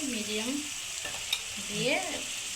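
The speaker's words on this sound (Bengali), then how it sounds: "এবার হালকা আস্তে আস্তে করে হালকা করে এইভাবে নাড়তে হবে" Gentle stirring of Nihere fish curry in a pan over a medium flame, soft scraping strokes over a steady low sizzle, no talk.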